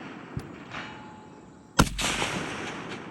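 A single loud FAL rifle gunshot cracks sharply and decays into a long echoing rumble outdoors, preceded by a fainter distant shot.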